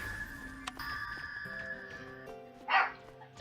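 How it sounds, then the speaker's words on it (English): A dog barks once, briefly and fairly loudly in the background, beneath layered electronic game tones and melodic beeps. "And Mummy's dog is barking right now."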